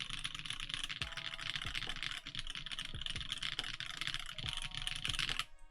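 Clacky mechanical keyboard being typed on, with a steady close stream of sharp key clicks and occasional heavier thocks, continuous for several seconds with no talking.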